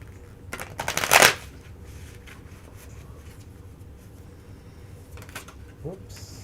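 Tarot cards being shuffled, with one sharp riffling burst close to the mic followed by quieter handling and soft rustles in a calm room.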